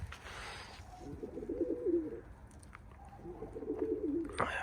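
Pigeons coo softly on a rooftop in two repeated bursts, a pair of stray tumbler pigeons heard close against steady outdoor background hiss, with no one talking.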